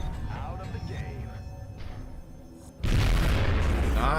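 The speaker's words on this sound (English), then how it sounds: "Finally, that explosion helps me." An explosion in the XCOM video game lands as a sudden loud boom partway through and leaves a heavy, sustained rumble, following quieter game sounds and talk.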